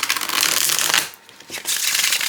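A tarot deck with soft cardstock riffled and shuffled close by, a soft continuous whirring flutter with a brief pause before the shuffling resumes.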